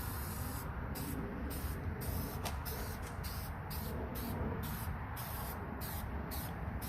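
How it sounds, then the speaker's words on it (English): Meguiar's headlamp coating hisses from a spray can onto a car headlight in a rapid series of short, even bursts with brief gaps between them, steady and close. "all we're going to do is take this and just spray it down evenly"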